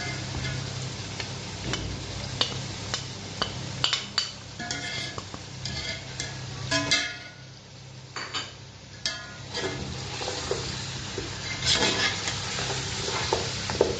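Mutton fries with whole garam masala, garlic, ginger and ground spices in a pan, giving a continuous sizzle. Repeated stirring knocks and clinks of a utensil against the pan come close by, and no voice is heard.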